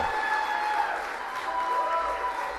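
A rally crowd applauds and cheers, a steady wash of clapping and raised voices that holds for a couple of seconds before cutting off abruptly.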